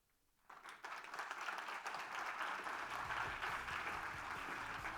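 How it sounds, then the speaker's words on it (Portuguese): An audience applauds speaker Paula Bernardoni after her talk on embedded insurance, the clapping starting abruptly after a brief quiet moment and swelling into a steady, full round that carries on evenly. "Fuerte aplauso nuevamente entonces para Paula Bernardoni"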